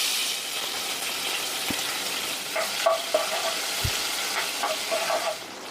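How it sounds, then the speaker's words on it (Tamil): Fish curry bubbling in a pot on a home stove, a soft steady simmering hiss with faint bubbling pops and a couple of light clinks of utensils. "அதில் மீன் குழம்பு கொதிக்குது"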